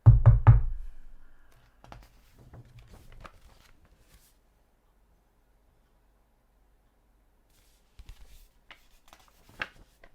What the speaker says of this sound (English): He walked up the stairs and knocked on the door.